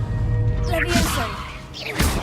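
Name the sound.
Levioso levitation spell effect, Hogwarts video game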